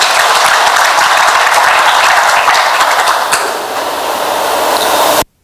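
Crowd applause at a Simba Sports Club event, a dense steady wash of clapping that runs continuously, dips slightly near the end and then cuts off abruptly.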